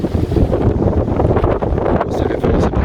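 Strong wind gusts buffet a microphone on a beach by the water, a loud, uneven roar with bursts and dips, and a voice faintly mixed beneath it.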